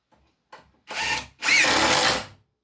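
A power drill driving 2-inch screws into wood while building a shaving horse: two close, loud whirring bursts, a short one then a longer one, after brief clicks, with silence between.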